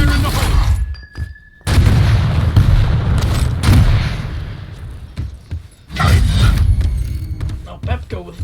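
Grenade explosions in a video game, several heavy booms with sharp attacks spaced across the stretch, mixed with game action and a commentator talking throughout.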